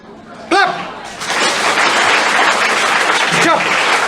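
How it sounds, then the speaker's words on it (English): Engineering students on a college campus clap together in a loud, continuous burst, with a brief voice cutting in near the start and again near the end over the patter. "Clap."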